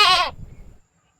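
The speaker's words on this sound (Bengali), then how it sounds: "ছাগলের ডাককে বাংলায় বলে ম্যা ম্যা" A goat gives a single short, loud bleat up close, then falls quiet with only faint low rustle behind it; no voices.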